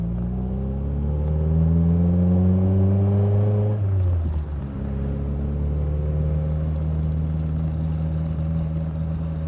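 A Triumph Spitfire sports car drives along, its engine droning loudly and steadily, pitch dipping briefly as it shifts and then settling again.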